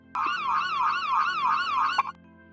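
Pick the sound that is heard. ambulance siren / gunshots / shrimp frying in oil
ambulance siren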